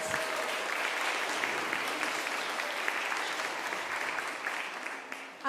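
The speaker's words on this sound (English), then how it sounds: "Let's give them a round of applause" A church congregation gives the pastoral care team a round of applause, an even, sustained patter of many hands at moderate distance that lasts around five seconds before tapering.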